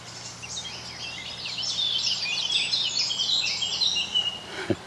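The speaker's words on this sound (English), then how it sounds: "Birds singing." Birds sing beside a river on a summer morning in the English countryside, with busy overlapping chirps and trills at moderate distance over a soft steady background, and no talk.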